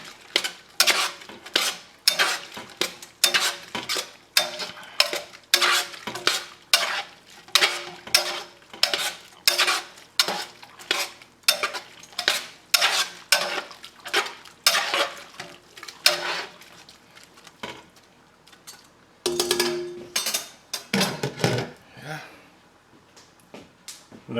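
Noodles cook in a pan and are stirred repeatedly. Rhythmic scraping and clattering of a utensil against the pan sound close and run on for a long stretch, with a soft sizzle beneath and a voice at times.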